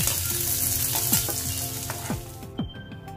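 Chopped onion sautéing in a couple of spoons of hot frying oil in a pan, with a steady close sizzle broken by scraping stirs of a spoon.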